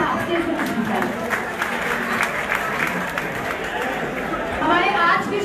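An audience at an Urdu poetry event applauds a poet, with sustained dense clapping mixed with crowd chatter, loud and steady throughout.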